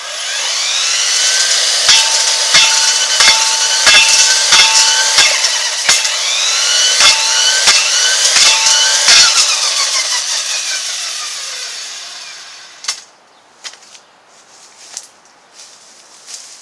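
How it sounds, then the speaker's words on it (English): A Ryobi 18-volt cordless expand-it cutting tool runs steadily and loud while cutting through a one-inch tree outdoors, with rhythmic snapping ticks, then shuts off and leaves scattered rustles and knocks. "Now just to show you that this 18 can cut down trees"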